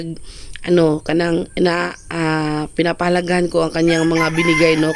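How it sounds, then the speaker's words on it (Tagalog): A rooster crows loudly and repeatedly at close range, its long strained calls filling nearly the whole stretch, while a voice talks underneath at a New Year celebration. "At pasensya na kayo sa manok na napakaingay during mag-voice over talaga tayo."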